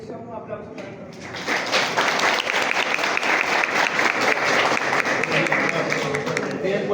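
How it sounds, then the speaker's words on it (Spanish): An audience breaks into loud, sustained applause for a professor at a class event, swelling after the first second and holding steady, with some talk faintly audible at the start. "Un aplauso para el profesor."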